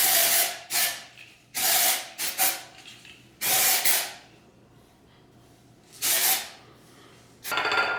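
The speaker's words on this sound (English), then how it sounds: "You lift up like your roots, and I just give it like little spritz, and like where it gets greasy." Batiste dry shampoo sprayed onto greasy hair roots in short aerosol bursts: several sharp hissing spritzes of a second or less, separated by quiet pauses, close and fairly loud.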